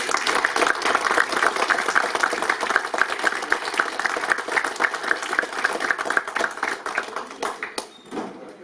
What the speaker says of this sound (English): let's have another round of applause for them